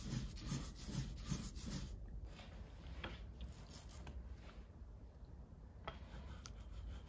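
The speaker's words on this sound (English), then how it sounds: "I need to get this spread over the roller nice and thinly and in an even coating" A rubber ink roller is worked back and forth over a slab to spread ink thinly and evenly for a linocut print, producing a continuous sticky, rasping rub with repeated strokes, close and without voices.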